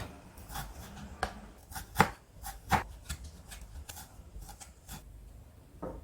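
Knife slicing thin strips of partly frozen meat along the grain on a cutting board, a series of sharp irregular chopping taps with a quiet pause between strokes.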